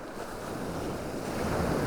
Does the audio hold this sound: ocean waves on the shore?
yes